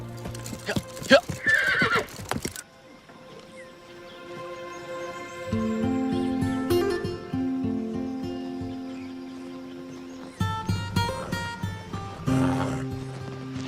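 Horses clip-clop and whinny outdoors in an action film scene, with hoofbeats and neighs at the start and end, set against a sustained musical score and a stretch of near silence.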